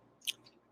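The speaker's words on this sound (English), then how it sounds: "Keep chewing." A person chewing food with one short, crisp crunchy bite up close, quiet and brief, with no talking.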